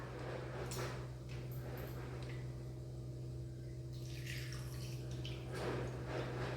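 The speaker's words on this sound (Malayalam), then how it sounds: "മത്സരിച്ചതിന് ശേഷം നമുക്ക് വെള്ളം ഒഴിച്ചു കൊടുക്കാം" Water poured into a pan of crab curry, a few brief splashy gushes over a steady low hum.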